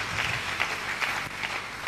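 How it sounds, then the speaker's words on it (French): A church congregation claps loudly in a brief burst, with dense, rhythmic applause in a reverberant hall. "Acclamons très fort."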